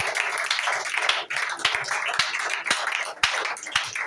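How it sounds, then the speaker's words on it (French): A church congregation claps and cheers to acclaim the Lord during a French-language service, a busy, energetic wash of crowd noise broken by scattered sharp individual claps. "lève-toi et acclame le Seigneur"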